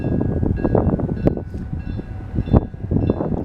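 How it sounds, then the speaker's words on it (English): A train of box cars rumbles past nearby with rhythmic clacking and metallic squeals, loud and steady, with brief sharp screeches standing out. "here's the train coming."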